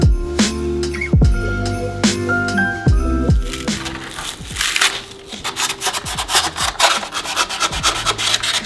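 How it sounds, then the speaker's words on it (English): An old plaster wall is sanded by hand, with rhythmic rasping scrapes that start slow and irregular and then speed into fast back-and-forth strokes. The sound is loud and close, with occasional knocks and no talking. "I'm going to go around and sand anything that doesn't look great"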